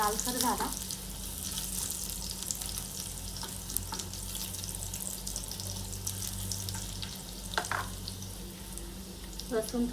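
Garlic and cumin seeds frying in hot oil in a pan, a steady close sizzle running throughout with a couple of brief clatters, no voices over it.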